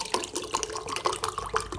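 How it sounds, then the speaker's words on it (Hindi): Filtered drinking water is poured into a bowl, a steady splashing stream with bright droplet spatter that runs without a break from start to finish, close and fairly loud. "फ़िल्टर वाला पानी जो हम पीते हैं वो पानी हम लोग इसके अंदर ऐड करके"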